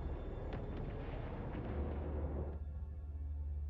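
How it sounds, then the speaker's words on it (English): A muffled, rumbling blast in the game Homeworld 3 rolls through, with a few scattered pops, then settles into a low steady hum. "What is exploding?"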